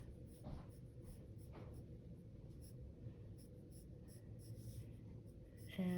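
A pencil sketching light lines on paper for a pear shape, giving a soft steady scratchy rub that runs throughout, faint and close with a low background hum.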